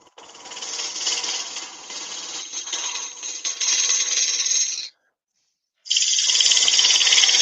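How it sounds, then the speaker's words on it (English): A wood lathe turns a tenon on a workpiece as the tool strips away waste wood, making a steady, rough scraping hiss that stops abruptly for about a second and then resumes just as loud. "we're just putting a tenon on this. Getting rid of some of the waste wood here."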